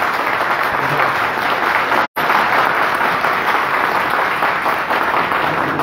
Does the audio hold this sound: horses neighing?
no